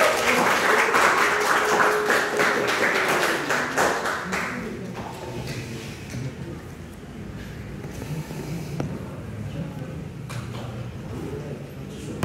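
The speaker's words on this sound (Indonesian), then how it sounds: "Siapa yang mau tepuk tangan dulu untuk mereka?" A university philosophy class claps for a student group after their presentation, a brief burst of scattered clapping in the opening seconds that quickly fades into quieter room noise with faint taps and murmurs.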